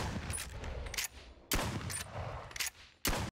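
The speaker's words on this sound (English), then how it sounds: "the second one acts like an actual pump action shotgun" Pump-action shotgun in a Boneworks mod, fired three times at roughly 1.5-second intervals, each loud close blast followed by a short tail and the quieter mechanical rack of the pump between shots.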